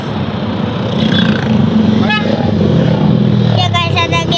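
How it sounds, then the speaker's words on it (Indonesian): A group of motorcycles passes on a road near Busung Beach in Simeulue, Aceh, engines droning and revving close by under outdoor chatter and background noise. "Ada geng motor guys."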